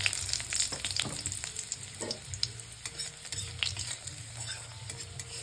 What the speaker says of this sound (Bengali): লঙ্কাগুলোকে লাল করে ভেজে নিয়ে